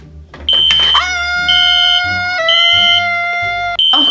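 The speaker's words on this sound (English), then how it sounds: "Fire alarm." A fire alarm blares in a loud, steady electronic tone that shifts pitch in a few stepped segments, sounding alone and close for about three seconds after a brief rustle.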